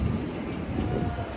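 A passenger train rolls toward Long Island, heard from inside as a steady low rumble of wheels and carriage noise, close and continuous over a short stretch.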